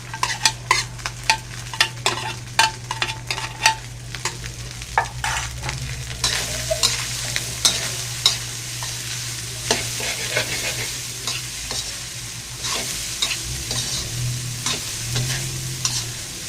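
Leftover rice and carrots stir-fried in a pan for American-style fried rice: rhythmic scraping and clattering stirs over a steady close sizzle throughout.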